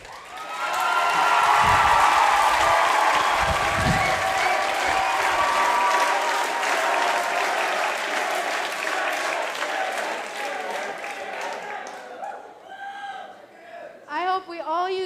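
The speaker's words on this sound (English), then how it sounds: "I hope we all used our hands to give Kay the round of applause he deserved." Sustained audience applause with cheering and whoops fills a live stage show at a pageant-style event, loud and dense at first, then thinning out with scattered claps and a few voices toward the end.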